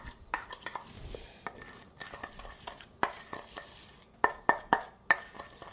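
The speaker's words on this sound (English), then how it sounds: "Now I'm going to stir that up, and all the dry things kind of mix them together." Dry spices, sugar and nutmeg stirred together in a bowl for sugar and spice roasted almonds, making scattered light scraping clinks of a spoon against the bowl, with a few sharper taps near the end.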